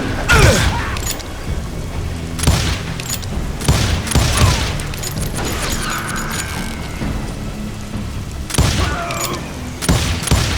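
Gunfire in the Western shooter Call of Juarez: Gunslinger, several loud booming gunshots in bursts with mechanical clicks and clatter between them, over a busy game soundscape.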